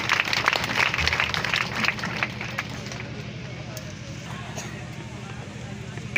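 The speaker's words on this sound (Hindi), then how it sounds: "जोरदार ताली बजा के स्वागत करिए भाई।" Loud applause from a crowd welcoming Suheldev Bharatiya Samaj Party members at a rally, dense clapping strongest over the first two seconds then easing into a steadier, softer patter with some crowd murmur.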